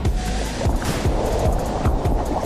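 Slightly choppy sea water on an October day, with small waves lapping and sloshing in a steady rhythm close by, a continuous wash punctuated by soft repeated slaps.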